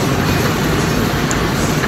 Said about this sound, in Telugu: ఇప్పుడు ఇక్కడ పక్కన కనిపిస్తున్న రైలు వచ్చేసి కంకర తీసుకొచ్చారు